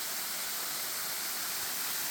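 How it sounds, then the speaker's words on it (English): Buttermilk Falls, a waterfall in Indiana County, Pennsylvania, in winter: a constant broadband rush of falling water, steady and fairly loud throughout with no variation and no voices. "Here is Buttermilk Falls in Indiana County, known as Mr. Rogers Waterfall."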